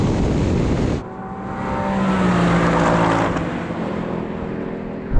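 A Ford Mustang and a Porsche Cayman rolling race from 30 mph in second gear, with loud, close engine roar rising under hard acceleration and a steady rushing drone throughout, no talk.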